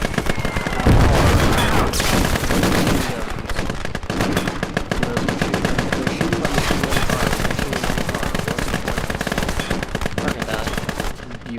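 Continuous rapid gunfire and machine-gun bursts from the war game Call to Arms fill the whole stretch, loud and dense, with booming shots mixed in.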